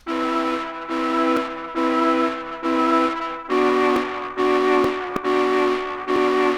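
Distorted Mellotron flute blended with a centered VST flute plays a repeating phrase of about eight sustained chords with brief gaps between them, loud and alone.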